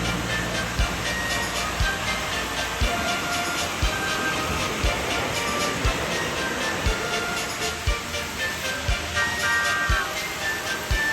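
A train rumbles along steadily with a rhythmic clacking of wheels over rail joints, a continuous hissing roar underneath.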